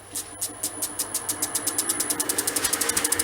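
A long-grind half-inch bowl gouge makes an aggressive cut into wood spinning on a lathe, producing a rapid, regular series of loud rhythmic thumps that speed up with a high hiss over them, close and without talk.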